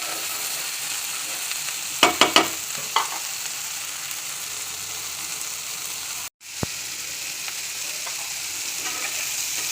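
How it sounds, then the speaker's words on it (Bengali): Bitter gourd with small shrimp frying in an open pan gives a steady close sizzle, with a few sharp stirring clicks early on and a brief dropout partway through. "আমি এখন ঢাকনি খুলে দিয়ে এটা ভাজবো।"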